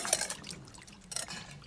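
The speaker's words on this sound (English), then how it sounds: "I then got some more water and gave them their second rinse." Water poured over peeled potatoes for a rinse, a faint splashing trickle with light clinks of a pot or dish, quiet and close.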